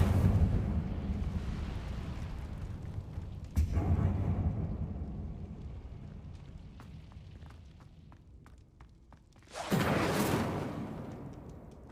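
A fire spell cast in Hogwarts Legacy: a sudden whooshing burst erupts about a third of the way in, followed later by a louder roaring flare near the end over steady game ambience.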